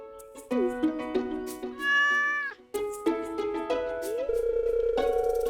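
A cat in the video game Stardew Valley meows several times, a run of short rising and falling mews that stand out clearly over light in-game music.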